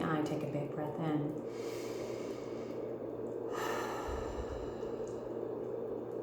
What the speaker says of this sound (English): take a big breath in